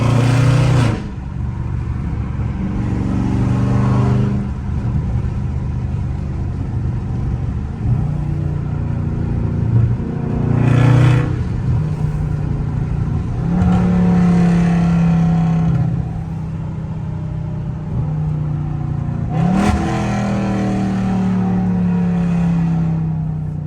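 Dodge Scat Pack in custom mode driving through Atlanta city streets, a loud, close engine and exhaust rumble that swells with repeated revs and brief bursts of acceleration over a steady drone.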